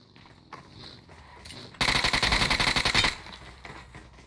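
Automatic gunfire from a PUBG match: a loud, rapid burst of repeated shots lasting just over a second, preceded and followed by quieter game sounds and scattered shots.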